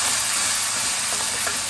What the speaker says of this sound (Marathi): आता कढीपत्त्याची पानं घातलास चलतली, म्हणजे फोडणीच चलतली.